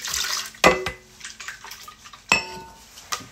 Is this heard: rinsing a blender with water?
yes